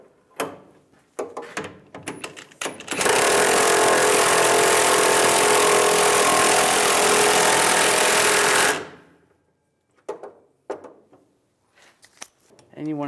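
Power tool tightening a leaf spring bolt on a 2007-2013 Chevrolet Silverado 1500, one loud continuous mechanical whir lasting about six seconds, with scattered clicks and handling noises before and after.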